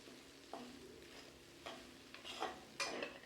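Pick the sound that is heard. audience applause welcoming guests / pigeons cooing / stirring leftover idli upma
stirring leftover idli upma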